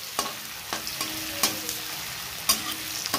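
Garlic and onion frying in a wok, a constant sizzle punctuated by sharp, irregular scrapes and clacks of a spatula stirring, close and clear without talk.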